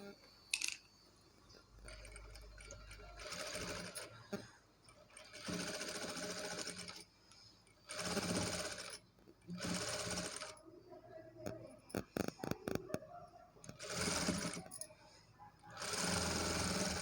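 Sewing machine stitching a blouse for a 10 to 11 year old child, running in repeated bursts of several seconds each with short pauses between, close and steady.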